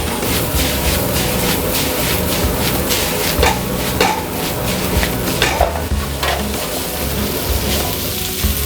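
Hotel-style chicken noodles with soy sauce being stir-fried in a pan, a loud close sizzle under steady scraping and tossing strokes of the utensil, continuous throughout with no talking.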